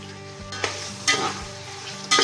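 Chicken pieces dropped into a pan of frying tomato and onion for biryani, giving a few loud sizzling bursts over a steady low crackle with occasional stirring scrapes, and no voices.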